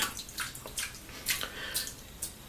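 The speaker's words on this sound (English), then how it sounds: "just washing off my hand here" Tap water splashes steadily while hands are rinsed at a sink during a wet shave with a shavette razor, a soft continuous trickle broken by several brighter splashy bursts, close and fairly quiet.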